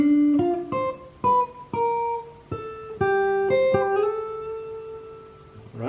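Electric guitar plays a riff as a lesson demonstration: a run of distinct plucked single notes with slides and vibrato, clean and close, alone with no talking.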